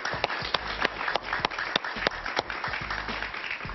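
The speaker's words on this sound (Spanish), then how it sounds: "Un aplauso para Willy Cochet," Light studio audience clapping for a television guest, a handful of distinct claps with a sparse, close rhythm.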